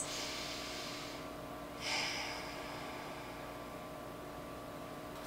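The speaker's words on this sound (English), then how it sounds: "Take two more breaths in your corpse pose." Slow, deep breathing during a yoga corpse pose: a long soft airy exhale fades out, then a shorter, stronger breath follows, with quiet steady room noise underneath and no talking.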